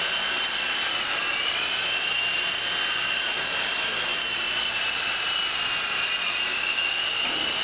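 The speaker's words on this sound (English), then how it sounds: "This is my new helicopter." Small toy helicopter flying nearby, a steady high-pitched motor whine with a buzzing rotor hum, continuous and fairly loud with no one talking.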